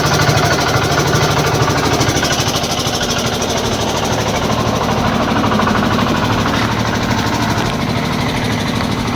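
A generator engine runs on a dairy farm with a loud, steady, rapid chugging drone that stays close and constant throughout, with no voices.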